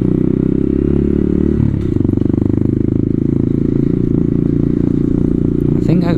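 Honda Grom motorcycle on the road, its small engine a steady, close, loud drone that shifts pitch briefly as revs change partway through, then settles back into an even hum.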